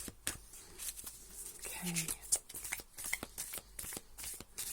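Tarot cards from an Energy Oracle deck are shuffled in a series of soft riffling, fluttering bursts close by, with someone speaking quietly over them.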